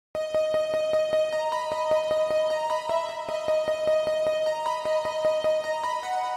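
A bright electric piano tone plays a repeating melodic pattern of evenly spaced notes with a steady rhythmic click, clean and close, no voices.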